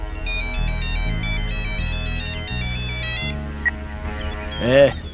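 A mobile phone ringtone plays a loud, repeating electronic melody in a tense scene from a South Indian action film dubbed into Hindi, then cuts off as a brief voice sound follows.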